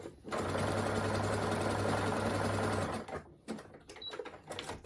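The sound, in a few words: sewing machine stitching a T-shirt side seam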